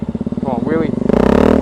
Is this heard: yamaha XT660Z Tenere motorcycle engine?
yes